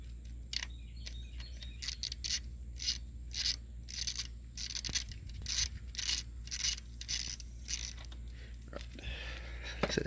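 An 11 mm wrench turning out the factory bleeder screw on a T56 transmission clutch slave cylinder, with a rapid series of faint, close ratcheting clicks in bursts over a low background hum.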